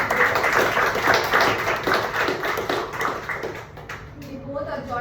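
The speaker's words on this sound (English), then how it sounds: "Can we give a big round of applause?" An audience applauds with dense, steady clapping at a Toastmasters meeting, fading out after about four seconds as a person starts speaking.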